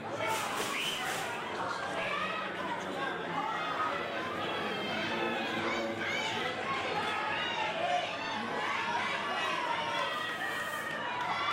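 Crowd at a Gold Rush Pro Wrestling event, a steady roar of chatter, shouts and cheering filling the venue, with a commentator talking over it throughout.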